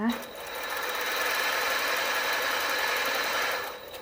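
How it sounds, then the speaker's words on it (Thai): An overlock serger stitching along a fabric edge, a fast continuous mechanical whir that rises, holds steady for about three seconds and then winds down, close and fairly loud. "แล้วเราก็ฝึกเย็บต่ออีกค่ะ ทำเหมือนเดิมนะคะ"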